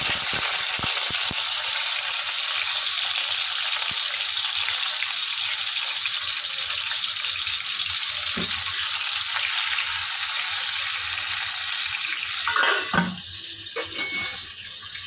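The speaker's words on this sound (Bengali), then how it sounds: "এই তেলটা গরম হয়ে গেছে, মাছের মাথাগুলো দিয়ে দেবো।" Fish heads sizzle in hot oil in a pan for cabbage ghonto, with a steady loud frying hiss that runs throughout and a few utensil clinks and scrapes near the end.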